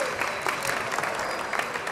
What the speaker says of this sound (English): Thank you for clapping. Give yourselves a hand.